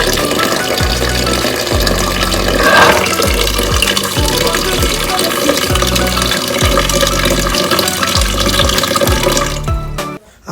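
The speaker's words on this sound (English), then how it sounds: "So now I'm washing my pressure pot" Tap water runs steadily into a pressure pot as it is washed, a loud broadband rush that continues almost unbroken before cutting off near the end.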